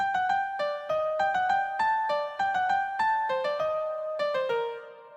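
A fugue answer in the style of Bach plays as a real answer, intervals kept exactly, on a bright keyboard-like instrument: quick, evenly spaced notes in a running line, close and clear, ending on a held tone.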